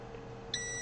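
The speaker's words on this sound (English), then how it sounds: "Should get a nice beep from the Z-stop." A Creality LD002R resin printer's Z-stop gives a single steady electronic beep that starts partway through and holds to the end, faint against a quiet hum.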